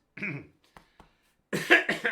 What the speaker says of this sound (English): now I can finally get the cough out